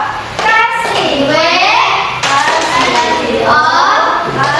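Primary school children in a classroom chant the 'tepuk wow' clapping cheer, with a few sharp claps under rising and falling sung 'wow' calls from many young voices in unison, loud and close.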